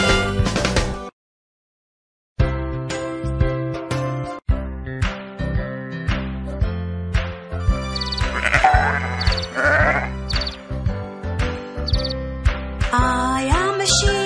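Sheep bleat again and again in a children's animal alphabet game, with wavering, nasal calls coming one after another. The calls are loud and close, and a brief silence falls near the start.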